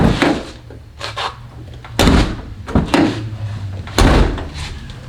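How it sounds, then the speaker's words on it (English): Door of a 1956 Volkswagen Beetle slammed shut repeatedly after seal work, three loud close solid thuds about two seconds apart with softer handling clunks between them. "Got to slam the door, so I guess that means that the seals are sealing"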